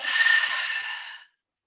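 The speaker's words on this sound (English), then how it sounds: "in through the nose, out through the mouth" A single long, airy exhale during a yoga session, a close breathy rush lasting about a second before cutting off into silence.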